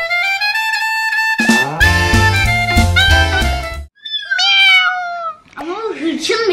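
A voice imitates a cat, giving several loud, drawn-out meows in separate bursts, with a short stretch of louder background music between them.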